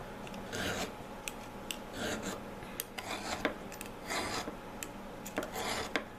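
A serrated knife is sharpened with a file in repeated short rasping strokes, a steady back-and-forth scraping rhythm, close and moderately loud, with no talking.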